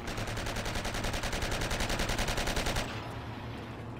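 Rapid, evenly spaced automatic gunfire from the multiplayer game Forgotten Hope 2 on the Keren map, close and loud for almost three seconds, then cutting out to a quieter background.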